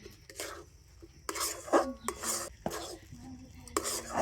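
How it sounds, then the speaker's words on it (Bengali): A spoon scraping and knocking against a pan while semolina is stirred continuously with a pinch of salt, giving intermittent close scratchy strokes in uneven bursts, with no talk. "আর এইভাবে কিন্তু একটু কন্টিনিউ নাড়াচাড়া করতে হবে।"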